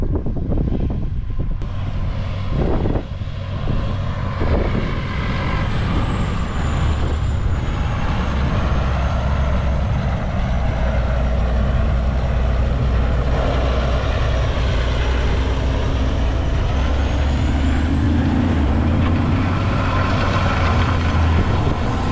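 A John Deere 9530 tractor, rated at 500 horsepower, pulls a Lemken Heliodor cultivator through a field at about 18–20 km/h. Its deep diesel drone runs steady and loud throughout, with a few clanks early on.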